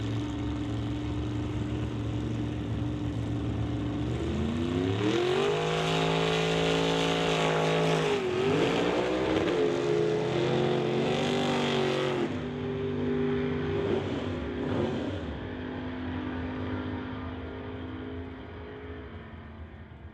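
Two drag racing cars, a Plymouth and a Bel Air, launch side by side with loud roaring engines, revving up and accelerating down the strip before fading as they pass into the distance.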